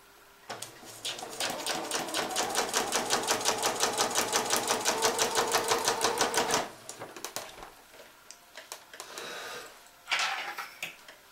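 A sewing machine stitches cork fabric in a fast, even run of rapid clicking needle strokes that lasts several seconds. After it stops, a few handling clicks and a brief rustle follow, all close by.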